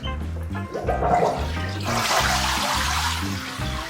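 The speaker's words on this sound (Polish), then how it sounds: "Uruchamiam filtr." An aquarium filter starts up on a 450-litre tank, with water gushing and pouring into it in a loud, turbulent rush underneath a low humming motor tone.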